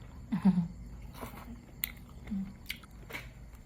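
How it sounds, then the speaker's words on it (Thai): Crispy fried squid tentacles, served with spicy seafood salad, get bitten and chewed close to the mic, producing a few soft crunches and squishy chews spaced out over a few seconds, fairly quiet. "หนวดหมึกกรอบมาก"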